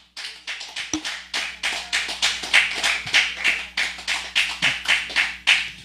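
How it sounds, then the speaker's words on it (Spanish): A church congregation clapping for Christ during an evangelical service, loud, steady rhythmic claps in unison, close and continuous, with no talking. "Denle palmas a Cristo."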